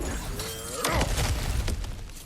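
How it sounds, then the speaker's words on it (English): Cracked ground shatters in God of War Ragnarök as it is smashed through, a single loud breaking crash followed by a scatter of tumbling debris. "Ah, back to smashing through things for fun and profit."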